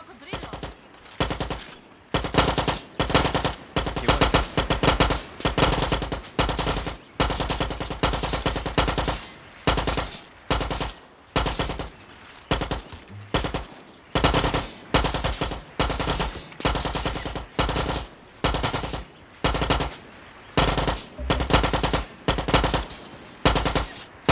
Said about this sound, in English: They're both firing, but they're hitting nothing.